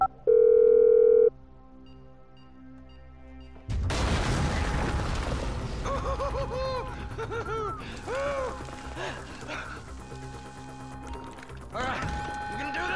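A phone dial tone in the video game Grand Theft Auto V: a steady tone sounds briefly, then gives way to loud booming action, music and talk.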